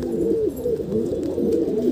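A freshly caught pigeon, held in the hand, coos in low repeated throbbing calls, close and continuous.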